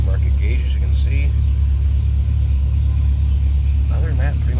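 A 1961 Chevrolet Bel Air with a 348 engine idles with a steady, deep low rumble close by, while a person talks over it.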